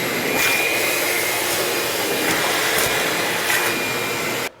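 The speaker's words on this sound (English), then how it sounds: "Just give this a vacuum" A vacuum cleaner cleans a vehicle seat with a steady whining drone, nearby and loud, with slight pulses in pitch before cutting off abruptly at the end.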